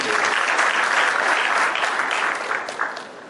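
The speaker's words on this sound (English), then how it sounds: "A round of applause." Loud, dense applause from a conference audience, sustained and even throughout before tapering slightly at the end.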